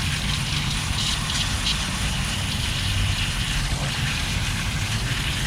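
Water gushes steadily from a hose or tap, rinsing out a large spiral tie-dyed T-shirt outdoors, a constant close splashing hiss with a low rumble beneath, while a person talks over it.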